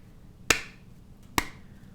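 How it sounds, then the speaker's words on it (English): A metronome gives two sharp, close clicks about nine-tenths of a second apart over a quiet background. "So if you have a metronome going"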